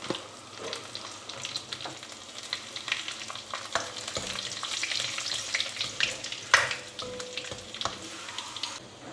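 Urad dal, shallots and chilli frying in hot oil in a pan: a steady close sizzle and crackle, with stirring scrapes and a few louder pops, no voices.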